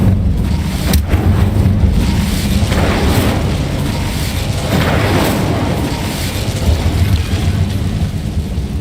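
Casting the Incendio fire spell in Hogwarts Legacy brings a loud, sustained roaring whoosh of flame with rumbling booms that swell and ebb across several seconds.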